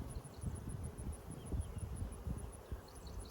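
Honey bees swarming around an opened hive, a low, dense buzzing hum close by with a faint, steady high whine pulsing above it, quiet and continuous.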